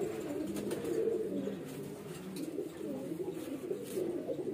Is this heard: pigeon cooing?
yes